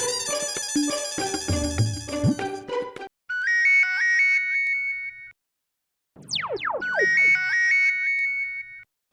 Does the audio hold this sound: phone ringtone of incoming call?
yes